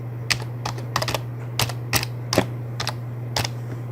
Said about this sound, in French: Et là, on tape notre texte.